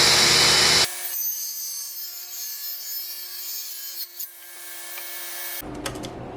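Wood for a DIY raised planter box is cut with a saw in a short loud burst, followed by a quieter stretch with a faint steady hum, and then another burst of cutting at the end.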